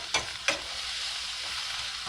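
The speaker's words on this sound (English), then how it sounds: "Put that in there to saute with the vegetables because you don't want them to burn." Vegetables and steak-burger meat sauteing in a pan for lasagna, a soft continuous sizzle with two sharp stirring scrapes near the start, no talk.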